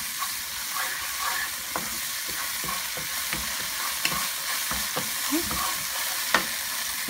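Garlic and ginger fry in a pan for Shanghai chicken, a steady close sizzle with scattered soft stirring scrapes and taps throughout, no talk.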